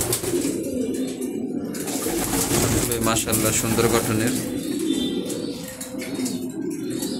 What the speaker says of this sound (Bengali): স্টক বাটের নর কবুতর এখানে সবগুলোই নর।